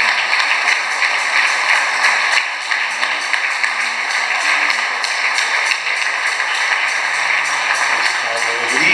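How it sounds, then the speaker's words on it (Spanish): Congregation applause during a loud Christian worship service, constant dense clapping over a steady bright musical drone and sustained tones, with no pauses across the full stretch. "Démosle un aplauso fuerte al Señor."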